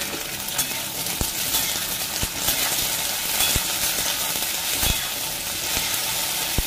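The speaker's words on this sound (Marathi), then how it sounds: "हे तेलामध्ये शेंग फ्राय होते" Cluster beans frying in hot oil with salt, a dense continuous sizzle close by, punctuated by occasional sharp clinks of a spoon against the pan.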